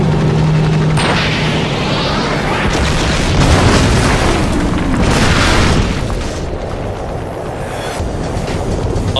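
Video game tank chase through the streets of St. Petersburg: loud, continuous booming explosions and heavy rumbling destruction, dense and close for the whole stretch, with a brief tonal hum at the start.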